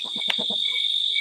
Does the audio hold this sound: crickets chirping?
yes